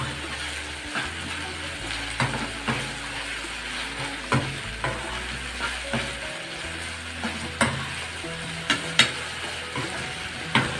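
Meat fries hard in a pan, giving a continuous close sizzle while a spoon stirs and knocks against the pan in irregular clinks and scrapes, with no voices.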